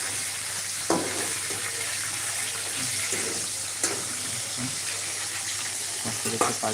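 Food fries in hot oil and is turned over, a loud continuous sizzle close by with a few clacks of a utensil against the pan, no voices.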